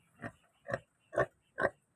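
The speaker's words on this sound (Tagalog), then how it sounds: "Native, na baboy po yan." A native pig grunts four times in a steady rhythm, each grunt short and close, with quiet pauses between them, at a roadside spot along a highway in Dasmariñas, Cavite.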